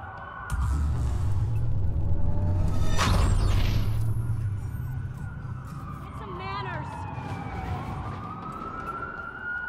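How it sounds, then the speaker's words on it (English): Police sirens wail in Watch Dogs, loud and close with rising and falling tones over a rumbling car engine, then fading into the distance as another siren sweeps in. "That's a lot of sirens for a blackout."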